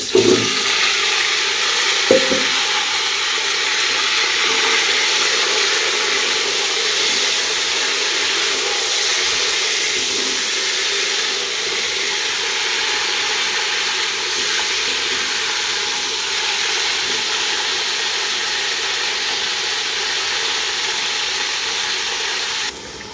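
Chicken pieces, already lightly fried to medium, sizzle in a pot of hot oil for chicken biryani. The frying makes a loud, continuous hiss that holds steady throughout, with a brief clatter near the start.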